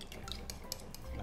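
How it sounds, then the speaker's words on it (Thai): A spoon stirs oil into a sauce for meat, clinking and scraping softly against the bowl in a close, steady run of small clatters. "แล้วก็ผสมให้เข้ากันนะครับ"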